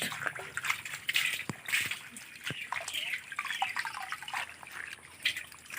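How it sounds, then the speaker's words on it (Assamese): Leafy greens washed by hand in water, with soft sloshing, drips and trickles and occasional splashy taps, fairly close and gentle throughout. "পানীত দি ধুনীয়াকৈ ধুই ল'ব পাতখিনি"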